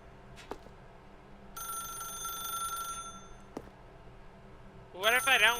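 A telephone rings in The Stanley Parable video game, with a bright electronic trill in two bursts, the second louder and warbling, over a low room hum.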